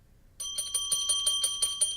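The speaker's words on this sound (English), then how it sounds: "Every time a bell rings" A bright bell rings rapidly after a brief silence, about eight quick strikes in a steady, close, loud trill.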